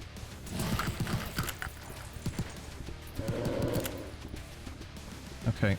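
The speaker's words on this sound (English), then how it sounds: "the Berserkers have a weird sound effect for their walking" In the boomer shooter Blightspire, Berserker enemies walk with an odd, hoof-like clip-clop at fairly low volume. Scattered gunfire and a speaking voice are also heard.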